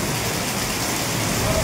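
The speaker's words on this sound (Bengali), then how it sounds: "কি অঝোর ছাড়ায় বৃষ্টি পড়ছে দেখো বন্ধুরা" Heavy rain pouring down in a steady, dense hiss that holds evenly for the whole short stretch, with no breaks or distinct drops standing out.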